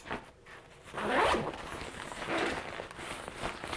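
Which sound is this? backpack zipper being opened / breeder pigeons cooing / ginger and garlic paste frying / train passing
backpack zipper being opened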